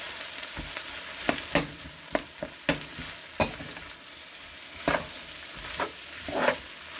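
Rice and onions stir-fried in olive oil in a wok, with a steady close sizzle broken by a series of sharp scraping and clattering strokes at an irregular pace.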